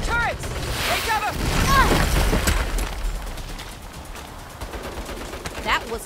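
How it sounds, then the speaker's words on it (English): Turret gunfire in the Saints Row video game rattles in rapid bursts, loud at first and then thinning out, mixed with whooshing effects and game noise. "Holy shit! Turrets! Take cover!"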